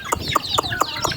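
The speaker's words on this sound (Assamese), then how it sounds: "সেয়া মুৰ্গী পুহিছোঁ, সেয়া দেখিছে মুৰ্গী, লোকেল মুৰ্গী হয় সেয়া দেখিছে।" Local chickens cluck in a quick series of five or six sharp, close calls with no talk over them.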